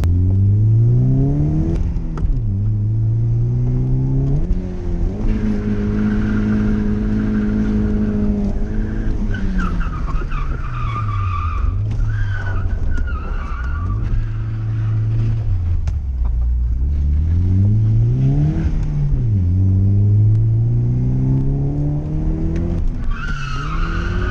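A Nissan S13 with a CA18DET engine and unwelded differential repeatedly revs up and drops while tires squeal through long drifting slides, loud and continuous, with no talking.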